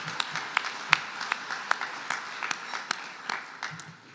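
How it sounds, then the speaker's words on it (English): Scattered applause from an alumni awards audience at a homecoming event: sparse, distinct individual claps ring out at uneven intervals against a quiet hall, thinning toward the end. "So let's give her a round of applause."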